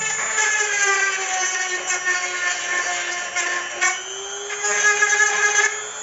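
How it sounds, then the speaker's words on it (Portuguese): A power drill whines steadily while boring holes in PVC pipe for a homemade craft piece, a high sustained tone with slight pitch dips and a brief break midway, running loud and close with no talking. "Já furei aqui e vou furar mais um aqui"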